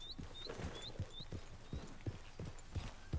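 Horse hooves clip-clopping at a steady walking rhythm in the Western video game Red Dead Redemption 2, a moderately close rhythmic beat over an outdoor ambience with faint bird chirps.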